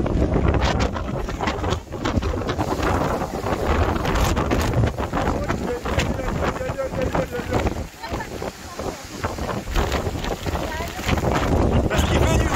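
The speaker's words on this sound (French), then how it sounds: "Il y a un vent de fou." Strong gusts roar and buffet the microphone on the mountain climb to Col de Roncevaux, a loud continuous rush with surging bursts, while a person talks over it.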